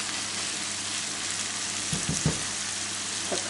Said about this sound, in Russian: Так, обжариваю до золотистого цвета.